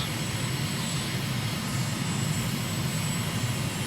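A steady aircraft engine drones in a flight simulator game during a landing approach, a constant even hum, close and moderately loud throughout, with no talk over it.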